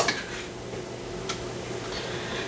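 Spoons and utensils clink lightly against a dinner plate as corn, mashed potatoes and beef are served, a few faint scattered taps over quiet kitchen background.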